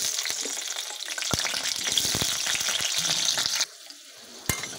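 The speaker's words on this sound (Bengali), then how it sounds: "এবারে এই তেলেই দিয়ে দেব আলু।" Potato pieces frying in hot oil left over from cauliflower, a steady close crackling sizzle with small pops, dropping suddenly quieter near the end before a brief sharp burst.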